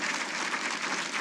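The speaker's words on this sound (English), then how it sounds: "let's give them a round of applause" Audience applauding Hall of Fame inductees at a military ceremony, a dense steady clatter of many hands clapping throughout, fairly loud and even with no pauses.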